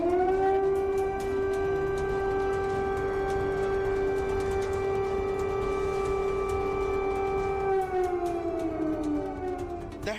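An air raid siren wails in one long steady tone, loud and sustained, then its pitch slowly sinks near the end, with no voices.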